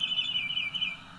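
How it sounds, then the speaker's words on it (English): Birds chirp and tweet steadily close by in the middle of the night in Elk Grove, California, a continuous high, fluttering song over a low background hum. "We got birds chirping away."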